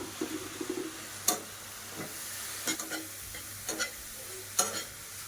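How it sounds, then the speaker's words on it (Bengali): Semolina mixed with jaggery stirred in a pan, soft scraping under a quiet steady hiss, broken by a handful of sharp spoon taps against the pan's rim, close and fairly faint. "এইভাবে আমি নাড়াচাড়া করে ভালো করে ড্রাই করে নেব।"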